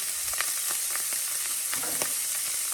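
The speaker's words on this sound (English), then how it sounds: "next we're going to put in our peppers, our celery" Peppers and celery sizzle steadily in a pan with browned sausage, a dense continuous frying hiss with small crackles and a few soft stirring taps, close and even throughout.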